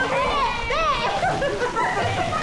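Children splash and play in water at a family day outing, sloshing and splattering close by while kids talk and shout over the watery noise.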